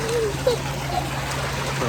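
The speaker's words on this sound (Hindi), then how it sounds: "तो ये हैं व्यूज़ पानी के।" Water pours and splashes steadily from a village tube well in rural Sindh, a constant rushing flow heard close up with a low hum running underneath and voices faintly present.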